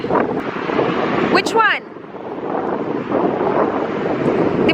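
Strong wind buffets the microphone outdoors in a continuous low rumble, with people talking briefly over the gusts.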